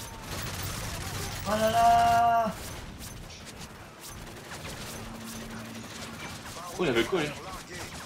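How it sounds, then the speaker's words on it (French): M16A4 rifle bursts in a first-person shooter, short rapid gunfire clusters near the middle and end, mixed with game sounds and a clattering mechanical rattle, while someone talks over it. "M16A4. Ah, c'est vrai que ça tire à rafale."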